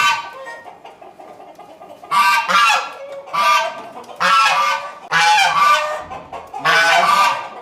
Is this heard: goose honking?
yes